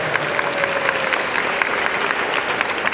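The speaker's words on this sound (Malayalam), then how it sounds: "നല്ലൊരു ക്ലാപ്പ് ചെയ്യണം" Audience clapping at a motivation class, dense steady applause throughout with no talk over it.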